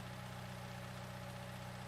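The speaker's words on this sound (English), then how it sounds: "start the engine" A skid loader engine in Farming Simulator 19 hums at a steady low idle, a continuous even drone with no rise, quiet and alone.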